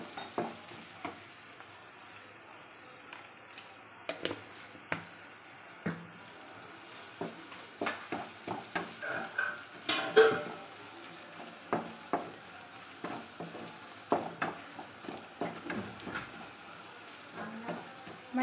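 Onion masala with turmeric being stirred in a pan for masala dosa filling, giving a soft low sizzle broken by frequent scraping spoon strokes in an irregular rhythm, close and fairly quiet, with no talking.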